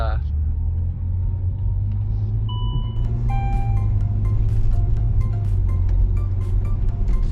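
Inside a Saab Turbo X converted to front-wheel drive, travelling about 40 mph, a steady low road rumble and engine drone carry on throughout while a person talks over it.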